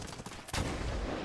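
A single gunshot rings out in the Medal of Honor Warfighter video game during sniping from a building, a sharp broadband crack followed by a sustained rumbling tail that stays loud to the end.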